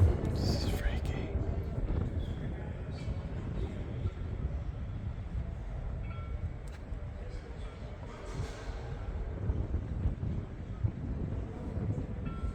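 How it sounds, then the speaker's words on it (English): Strong night wind at Alcatraz prison buffets the microphone in a continuous low rumble, with gusts swelling and easing, and faint murmured voices sit beneath it. "The wind is no joke, man."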